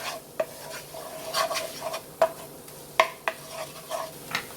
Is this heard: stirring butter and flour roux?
yes